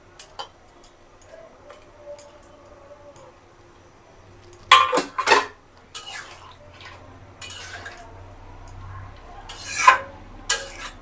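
Fish tipped into a cooking pot with green chillies and stirred, giving scraping, clattering utensil strokes against the pot in a few loud bursts over a quiet kitchen background.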